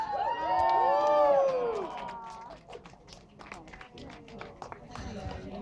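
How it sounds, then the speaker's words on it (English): Guests at a silver wedding anniversary party cheer and whoop loudly, then settle into scattered clapping and chatter that fades to a lower level. "Let's have a big round of applause for Jane and Chris."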